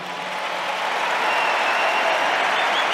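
An audience applauds during a political speech in Spain, a dense, sustained wash of clapping that holds steady and loud throughout with no voice above it.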